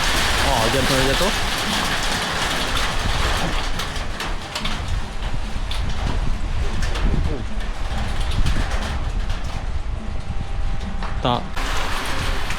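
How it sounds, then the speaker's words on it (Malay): Heavy rain pours down steadily around a raft on the water, a loud, dense hiss with a few louder drops and clatters throughout. "Hujan turun dengan lebatnya guys."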